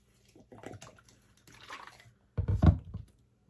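Liquid poured in short splashing bursts onto shaved ice for a snow cone, gurgling and crackling, with the loudest pour near the end.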